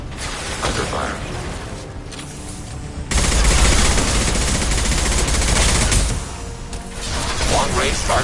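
Heavy video game gunfire erupts in a dense, loud burst of rapid shots with mechanical clatter during combat, surging midway through and then easing back to a lower, busy rumble of fire.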